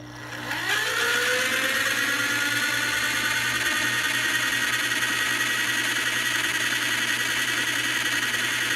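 Motor-driven apparatus spinning a magnet at about 630 RPM in a physics experiment: it starts up with a rising whine, then settles into a steady, loud mechanical hum with high tonal whirring that carries on alone to the end.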